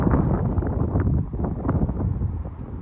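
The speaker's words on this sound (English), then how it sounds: "Hear the wind coming through that tree." Wind gusts through a tree in a California poppy field, a steady broadband rush with soft swells that buffets the microphone, with no voices.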